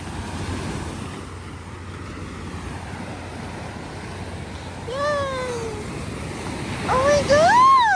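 Ocean surf washes steadily onto La Union beach in the Philippines as a broad, continuous rush that swells toward the end. High excited voices cry out over it.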